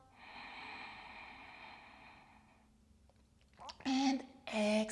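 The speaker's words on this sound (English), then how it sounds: "Inhale deeply through your nose." A long, steady inhale through the nose during yoga breathing practice, a soft airy rush lasting about two and a half seconds, followed by a pause and then a voice speaking.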